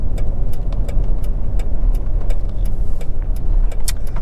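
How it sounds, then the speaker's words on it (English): A truck drives by on a desert road near the Tonopah Test Range: a steady, fairly loud engine and tyre roar holds throughout, with scattered sharp clicks and no talking. "Let this truck go by."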